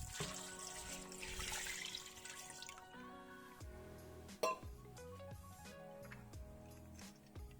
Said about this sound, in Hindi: पानी डालेंगे